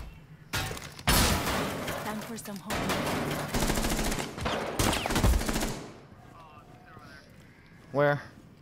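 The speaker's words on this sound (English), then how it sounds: "Someone's fucking shooting at me!" Loud, sustained automatic gunfire bursts in the Rainbow Six Siege video game, rattling rapidly for several seconds before stopping, followed by quieter incidental sounds.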